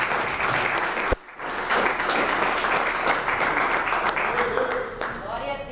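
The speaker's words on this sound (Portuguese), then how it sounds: "Vamos assim receber o Santo Senhor com as palmas alegres para Jesus" A church congregation breaks into joyful applause for Jesus during a Portuguese-language evangelical service, a dense, sustained wash of many hands clapping at once that carries on steadily after a brief pause near the start.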